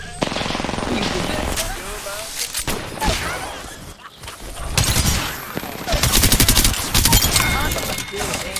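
Rapid bursts of video game gunfire in a ranked shooter match, automatic fire cracking in repeated clusters at close range, with occasional bits of player talk mixed in.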